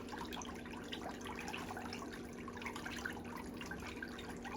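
Water sloshes and trickles steadily as feet are dipped in and out of a pedicure soaking basin during nail fungus treatment; a soft, continuous wash with a low hum underneath and no talking.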